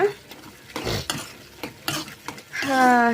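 Curry ingredients fry in a pan as a spatula scrapes and stirs in uneven bursts over a low sizzle, close by, ending with a rising whine-like tone.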